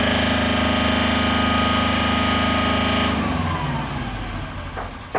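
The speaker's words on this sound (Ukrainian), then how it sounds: "Зараз працює він на генераторі." A generator running to power a mobile tire workshop container, a steady, loud droning hum with tonal engine harmonics that winds down and fades after about three seconds, leaving quieter mechanical noise.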